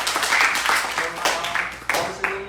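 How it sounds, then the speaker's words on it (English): Youth summer camp attendees at a Buddhist temple applaud in a room, with uneven bursts of clapping rising and fading while a voice speaks over them. "please give a big applause and say thank you."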